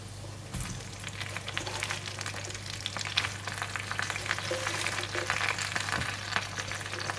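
Lettuce stir-fried with crab balls in a small pot, a steady close sizzle and crackle with a few scraping stirs, no talking.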